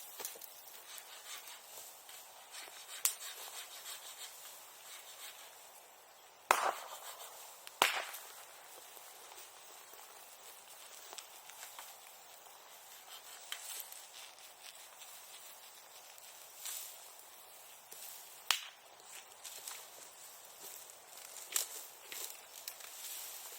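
Outdoor bonfire catching as flames come up, with sharp, irregular crackles and pops over a soft breathy rush of burning, close by, and a few louder snaps.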